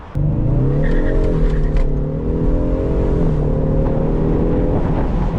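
A 2026 Ford Mustang EcoBoost's turbocharged 2.3-liter four-cylinder engine drones loudly and steadily as the car accelerates, pitch slowly rising, with a rushing whir of motion throughout.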